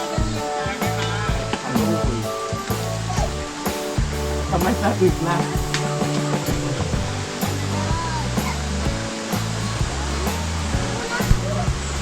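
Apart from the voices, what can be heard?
waterfall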